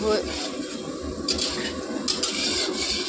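Potatoes and spices with onion, bay leaf and dried red chili sizzle and get stirred in a pan for a fish and potato curry, a close, steady frying hiss with occasional utensil scrapes under someone talking.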